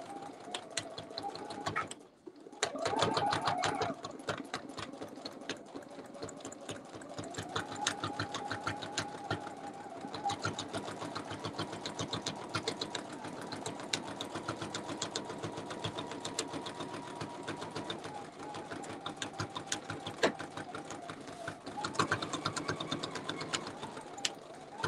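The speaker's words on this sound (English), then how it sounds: "all I'm going to do is stitch, moving my fabric and my template together" A sewing machine stitches fabric and a quilting template together, a steady fast mechanical chatter running almost without a break and briefly stopping near the start.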